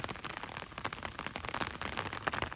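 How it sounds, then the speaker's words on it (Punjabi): Dense, steady rain spattering on a surface and puddles close by in a Punjab village, a constant crackling hiss with no voices. "ਅੱਜ ਤਾਂ ਮੀਂਹ ਪੈ ਰਿਹਾ ਜੀ"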